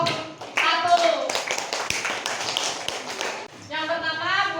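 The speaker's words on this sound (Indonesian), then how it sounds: "Beri tepuk tangan untuk kelompok 1." A classroom audience claps for group 1 during an Indonesian teaching performance test: a dense burst of many hands lasting a few seconds, with a voice speaking before and after it.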